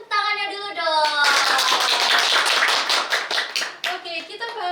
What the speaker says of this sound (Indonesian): beri tepuk tangannya dulu dong